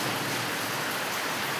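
Heavy rain pouring down over trees and greenery, a dense, unbroken roar of water that fills the whole short stretch at an even, loud level.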